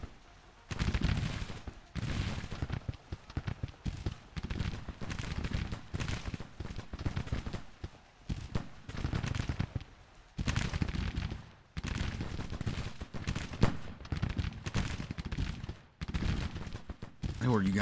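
Massed gunfire in Grand Tactician: The Civil War, with continuous volleys and crackling musketry rolling in waves through a long Civil War battle, with occasional brief pauses.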